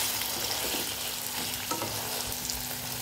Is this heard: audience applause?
no